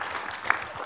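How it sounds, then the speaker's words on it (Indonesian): Applause at a church wedding ceremony, a brief stretch of dense, fairly soft crowd clapping from a seated congregation. "Berikan tepuk tangan luar biasa."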